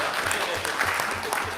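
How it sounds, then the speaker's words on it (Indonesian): Brief burst of applause from an audience at an Indonesian parliamentary (DPR) meeting with the Attorney General, a steady wash of clapping with voices mixed in. "Silakan tepuk tangan kawan-kawan sekalian"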